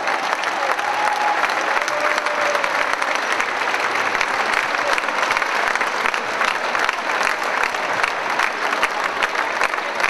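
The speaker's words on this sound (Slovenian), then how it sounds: "En velik aplavz." An arena crowd at a handball cup quarter-final between RK Slovenj Gradec and RK Celje gives loud, continuous applause of many hands, an even and sustained wash without pause, with faint crowd voices mixed in.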